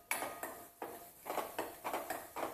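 Chillies are stir-fried in a pan with asafoetida and turmeric while a spoon scrapes and knocks against the pan in quick bursts, about one or two a second, close and fairly soft.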